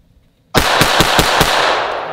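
Rapid pistol shots from an HK USP Expert, about five sharp, loud reports in quick succession that blend into a heavy, echoing roar fading slowly afterward.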